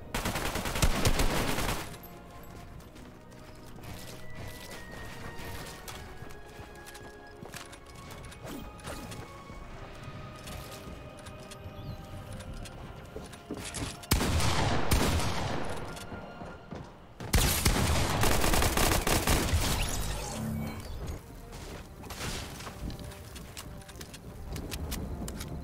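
Rapid bursts of video game gunfire crackle and rattle in loud volleys with mechanical clicking between them, swelling sharply in a few heavy stretches over a busy background.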